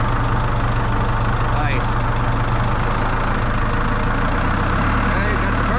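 A telehandler engine idles with a steady low diesel rumble close by, while a voice speaks briefly over it.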